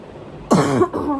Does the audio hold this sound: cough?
yes